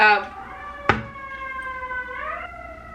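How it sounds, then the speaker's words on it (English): A wailing emergency siren rising and falling in pitch, steady and fairly close, with a sharp knock partway through. "the sirens are going"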